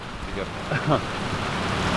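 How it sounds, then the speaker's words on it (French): Heavy rain pours down in a steady, dense hiss, with a brief burst of voices partway through. "Punaise, il pleut à fond."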